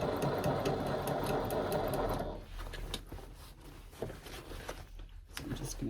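A vintage sewing machine stitches in a rapid, rattling run that drops off after about two seconds into softer intermittent clicks, heard close up.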